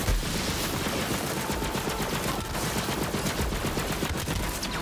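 The Fearmonger gun fires in Borderlands 3, with a rapid burst of loud, dense shots forming a continuous barrage that carries through to the end.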